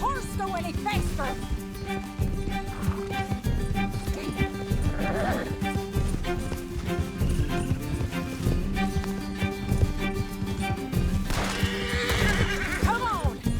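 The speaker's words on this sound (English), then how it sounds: "Can't this horse go any faster?" A horse in Red Dead Redemption 2 gallops with rapid clip-clop hoofbeats and lets out loud neighs and whinnies, set against constant game music and action noise.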